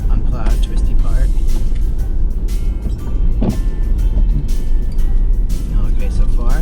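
A 2023 Ford Bronco Raptor driving at 25 to 30 mph along an unplowed, twisty snowy road, with a loud, steady engine and tire rumble from inside the cab and someone talking over it.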